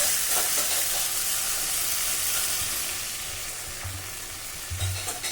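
Vegetables frying in a pan for a vegetarian fish curry hiss and sizzle loudly as water goes in, a steady broad wash of steam with brief low bubbling bursts near the end.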